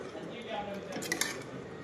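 A spoon scrapes and clinks in a pot as cowpea and potato curry is stirred. The sound is short, soft and close, with faint clatter and a murmur of background voice.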